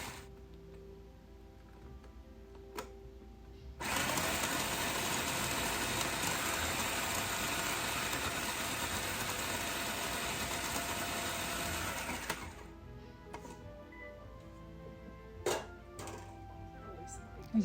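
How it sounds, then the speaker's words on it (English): A food processor whirs steadily for about eight seconds, finely chopping vegetables for a turkey soup, starting and stopping abruptly with quieter kitchen clatter before and after. "going to use the food processor because I'm really going to make it very, very fine"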